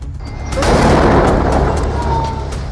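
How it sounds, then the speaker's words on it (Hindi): A large landmine explosion strikes an Israeli Merkava tank, a loud, deep boom that swells in after a quiet start and rumbles on with debris-like crackle, heard close and without talk. "टैंक आता है और कुछ सेकंड बाद होता है बहुत बड़ा धमाका"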